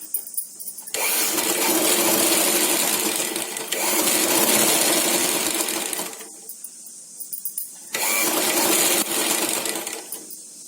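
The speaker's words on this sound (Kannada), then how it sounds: "ನೋಡಿ ಸ್ಟಿಚಿಂಗ್ ಮಾಡ್ಕೊಂಡಿದ್ದೀನಿ" A sewing machine stitches a cloth kitchen bag with white thread, a loud close whirring motor in sustained bursts that stop briefly and start again, running alone without speech.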